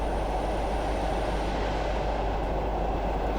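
A Class 117 diesel multiple unit cruises at a steady 40 mph line speed in Train Simulator 2021, a continuous, even rumble of engine and rolling wheels heard from inside, with no voices.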